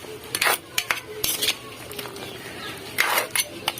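Metal utensil clanking and scraping against a cooking pot while crab and string beans simmer in coconut milk, in a few irregular clinks and knocks, fairly close, with no talk.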